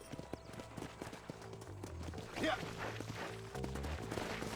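A horse gallops in the Red Dead Redemption video game in a steady rhythmic drumming of hooves. Tonal background music plays underneath, and a brief clatter sounds midway.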